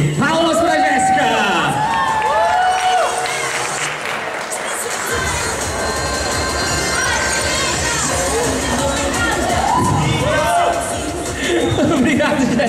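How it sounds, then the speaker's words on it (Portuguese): Cheering and applause from a crowd at a winter cosplay parade, with whoops, shouts and excited voices rising in waves over steady clapping and loud, lively hubbub. "Palmas pra Jéssica!"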